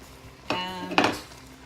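A wooden or metal spoon scrapes and knocks twice against a pot of pork stew with onions and fresh herbs, two short close clanks about half a second apart over quiet kitchen background.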